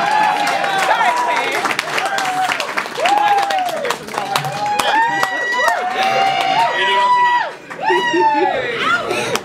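Comedy club audience applauds as a stand-up comic takes the stage, with clapping mixed under loud whoops and cheering voices from the crowd, close and lively throughout.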